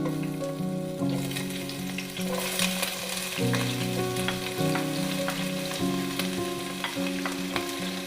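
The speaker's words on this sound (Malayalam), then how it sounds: "ഇനി ഇത് നന്നായിട്ടൊന്ന് വാടി വരുന്നത് വരെ ഒന്ന് ഇളക്കി കൊടുക്കാം" Garlic, ginger, green chili, onion and curry leaves sauté in a pan with a steady close sizzle and repeated stirring scrapes, a faint tonal hum running underneath, no talking.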